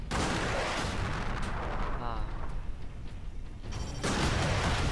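Turret gunfire rattles through a Warhammer 40k Space Marine battle as a loud, continuous barrage of shots and blasts, slightly thinner in the middle and surging again at the end, with a voice faintly mixed in.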